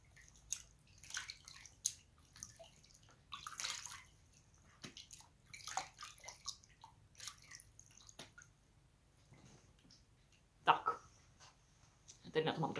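Face washed with water scooped from a small basin: irregular close splashes and drips come in separate bursts, some soft and some sharper, with quiet pauses between them.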